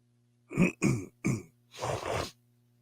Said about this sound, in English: sorry, I'm sniffing here.